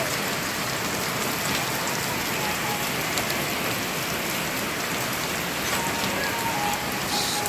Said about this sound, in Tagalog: Ito pa di, inabot na tayong ulan.